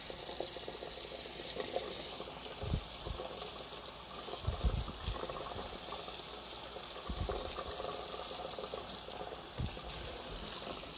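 Running tap water rinsing a chili pepper, a steady close hiss of flowing water with a few low thumps as the pepper is handled, with no speech.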